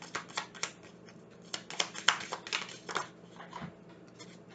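Oracle cards being shuffled and drawn, a string of quick, soft papery flicks and riffles in uneven bursts, close and fairly faint, with no speech.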